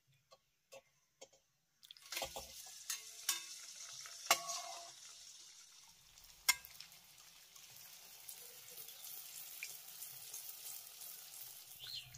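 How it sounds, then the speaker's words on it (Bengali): Poa pitha made with date palm jaggery frying in hot oil: a soft, steady sizzle that begins after a couple of seconds of near silence, with a few sharp clinks and stirring knocks on top, close and moderately quiet, no talking. "আমি আরো একটি পিঠা ভেজে দিয়েছি, এটাকেও তুলে নেব।"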